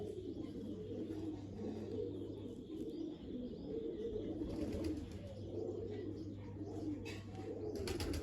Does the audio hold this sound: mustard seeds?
no